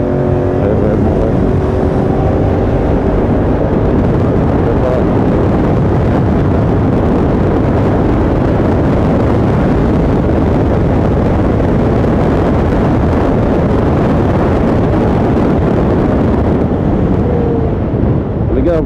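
A Kymco AK 550 scooter fitted with an Akrapovic exhaust runs at full throttle on the road. Its loud, steady engine drone and heavy wind rush go on without a break for the whole stretch.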